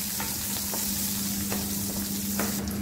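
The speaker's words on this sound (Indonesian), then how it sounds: "Nah ini tumis sampai dia harum." Garlic, shallots and ginger sautéing in hot oil give a steady, close crackling sizzle, with soft scrapes of stirring breaking through now and then.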